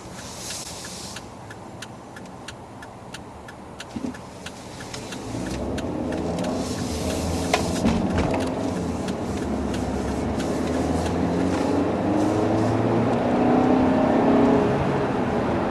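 A 2015 Volvo V60 T5 engine accelerates while merging onto a highway, its revving note swelling and rising in pitch after a quieter stretch inside the car, with faint clicks early on.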